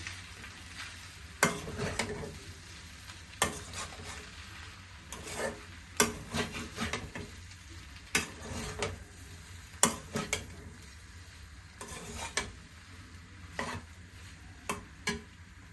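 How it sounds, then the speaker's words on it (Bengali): Mixed pasta stirred in a pan with Maggi masala nearby, a faint sizzle beneath regular scraping and tapping strokes of a spoon at a steady rhythm, close but quiet, no voices. "নাড়াচাড়া করে নিই"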